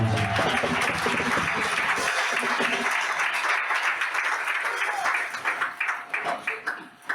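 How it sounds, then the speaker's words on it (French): A church congregation claps and cheers loudly in continuous applause, with voices mixed in, thinning toward the end into scattered claps. "Acclame plus fort le Seigneur."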